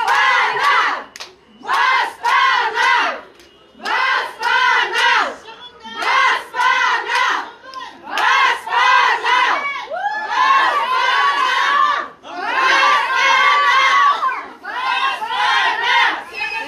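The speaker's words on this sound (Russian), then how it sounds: "они решили выйти на крылечко и кричать «Баспана!»" A crowd of Kazakh mothers shouts the slogan "Baspana" in loud, repeated rhythmic bursts on a building's front steps, the chant swelling and pausing in waves with no separate talk.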